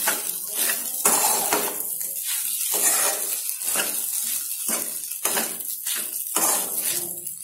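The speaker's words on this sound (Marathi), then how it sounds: "आता याला पण छान मिक्स करून घेऊया." Sabudana khichdi stirred in a pan over a low flame, a steady run of metal spoon scrapes and soft clatters against the pan in an uneven rhythm, close and fairly loud, no talking.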